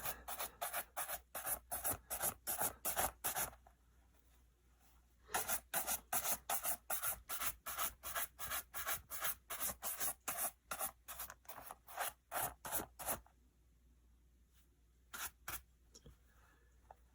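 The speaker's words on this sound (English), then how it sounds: "buff this in case there's any residue, any of the oil that wasn't absorbed." A women's leather shoe is buffed with quick, rhythmic rubbing strokes, close and fairly faint, in two long runs with quiet pauses between them.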